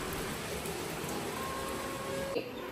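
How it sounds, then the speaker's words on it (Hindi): Heavy rain falls outside in a steady, even hiss of fat drops, soft and distant, without pause. "अभी बाहर कितनी तेज़ बारिश हो रही है"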